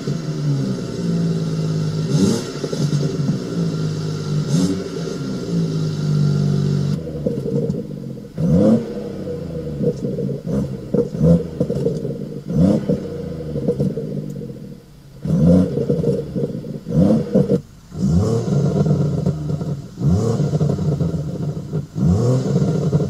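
A loud BMW M240i/M140i Bastuck cat-back sports exhaust revs repeatedly in sharp bursts, a steady deep drone broken by throttle blips and rumbling pops.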